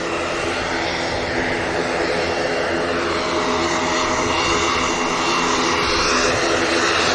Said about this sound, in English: KLM lining up next, and the proper aircraft.